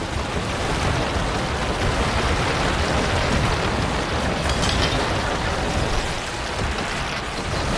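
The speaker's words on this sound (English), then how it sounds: "I got my meteorites raining" Meteorite spell raining down in the Diablo 4 video game, a steady, dense roar of falling impacts that stays loud and continuous throughout with no talk.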